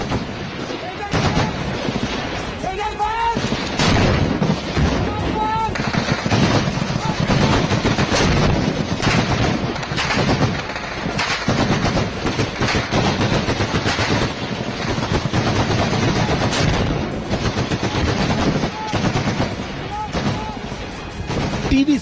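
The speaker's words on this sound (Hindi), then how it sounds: "उससे पहले आप इस वीडियो को देखिए जिसमें कार्ल गुस्ताव दुश्मनों पर मौत के गोले बरसा रहा है" A shoulder-fired Carl Gustaf rocket launcher fires at targets amid continuous loud gunfire and blasts, dense cracks and booms overlapping throughout with no pauses.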